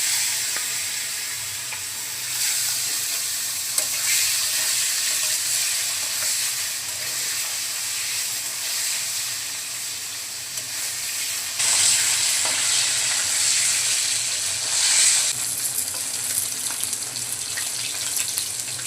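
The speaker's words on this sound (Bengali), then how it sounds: "কড়াইতে তেল দিয়ে দিচ্ছি, তেল গরম হয়ে গেছে। এখন মাছগুলো দিয়ে দিচ্ছি।" Fish fry in hot oil in a pan in a village kitchen, a loud, sustained hiss and sizzle with brief crackling bursts that flare and ease throughout.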